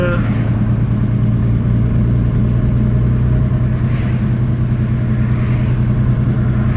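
A 1960 Jaguar car driving along a road in light traffic, its engine giving a steady low rumble with road and wind noise, heard from inside the cabin and continuous throughout.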